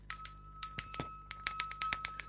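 Small bright bells ring in quick, irregular strikes, several clusters of shimmering chimes with a sustained high tone lingering underneath, fairly quiet and close.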